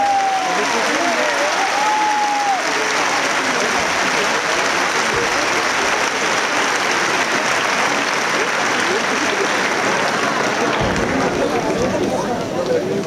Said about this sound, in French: Alors on va tous les applaudir parce que tous les jours,